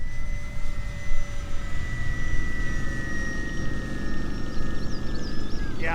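HobbyZone P-51D Mustang 1100mm 'Detroit Miss' model airplane flying overhead, a steady electric motor and propeller whine holding a constant pitch with a slight fading sweep near the end, wind noise underneath, no voices.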